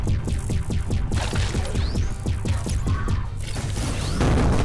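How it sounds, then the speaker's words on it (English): Explosion in a VR video game, a heavy booming crash over rapid repeated gunfire-like thuds and whooshing effects, dense and loud throughout with a fresh burst near the end. "That was the first time I felt an explosion."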